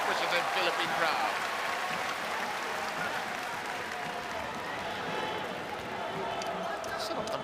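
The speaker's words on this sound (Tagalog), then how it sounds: "Ravena Bueva will get an ovation from a very, very appreciative Philippine crowd" A Philippine crowd at a basketball game giving a player a sustained ovation, a dense, steady roar of applause and cheering with sneaker squeaks and a commentator talking over it.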